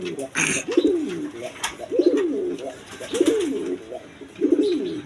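Pigeons coo close by in a steady, repeated rhythm, each throaty rolling call a few beats apart, with some faint background noise and a sharp click or two between calls.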